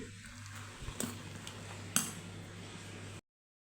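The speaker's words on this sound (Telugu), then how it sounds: "దీన్నంతా ఒకసారి బాగా కలుపుకొని" Spoon stirring risen idli batter in a bowl, quiet scraping with a few light clinks against the rim, over a low steady hum before the sound cuts off.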